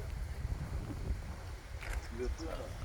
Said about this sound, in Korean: 지금 바람이 태풍처럼 불고 있는데요